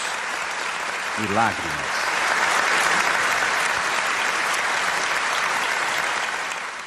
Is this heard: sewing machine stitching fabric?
no